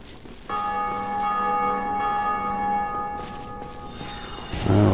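A church bell tolls in Dark Souls, one loud, resonant strike ringing out and slowly decaying over a low rumble, with no voices.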